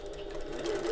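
A sewing machine stitching near a ring on a small bag, a brief close, steady mechanical whirr.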